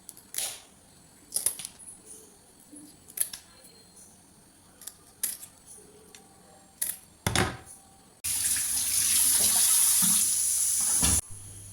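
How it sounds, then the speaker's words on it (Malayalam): Fish being cleaned by hand with scissors and then washed: scattered sharp snips and clicks, followed by a loud steady gush of running tap water for a few seconds near the end. "നമുക്കിത് ക്ലീൻ ചെയ്ത് വൃത്തിയാക്കി കഴുകിയെടുക്കാം"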